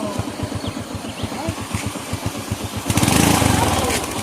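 A motorbike idles with a steady, chugging putter on a Jamaican road, then its engine revs up loudly and holds a higher buzzing pitch for about a second as the brake is applied, with voices faint underneath.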